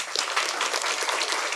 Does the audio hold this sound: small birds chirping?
no